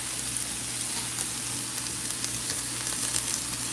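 Seasoned peppers and onions sizzle steadily in a pan as they are stirred together for plant-based cheesesteaks, a dense continuous crackle close by with no talking.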